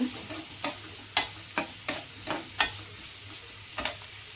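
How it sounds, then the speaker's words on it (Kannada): Filling for a chapati paneer egg roll frying in a pan, a low sizzle punctuated by about ten sharp, irregular spatula scrapes and taps against the pan, close and fairly quiet, no speech. "ಸ್ವಲ್ಪ ಫ್ರೈ ಮಾಡ್ಕೊಳ್ಳೋಣ ಹಾಗೆ ಸ್ವಲ್ಪ ಕಲರ್ ಚೇಂಜ್ ಆಗಲಿ"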